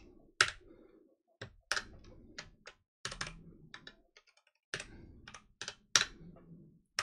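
Computer keyboard keys typing a terminal command in short bursts of close, crisp clicks separated by brief pauses, with no talking.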